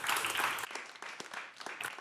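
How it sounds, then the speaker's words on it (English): A short burst of audience applause at a pre-seed fundraising talk event, honoring Kate and the organizing team, with dense clapping that thins after a moment into scattered claps. "give a big round of applause to Kate and to the team here for putting together this"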